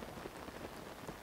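Rain falls steadily in the video game Zelda: Tears of the Kingdom, a soft, even patter of drops on surfaces that continues without a break, faint and with no voices.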